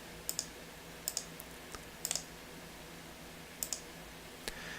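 Light, crisp computer keyboard keystrokes come in small clusters of two or three taps separated by pauses, quiet and close over a faint steady room hum.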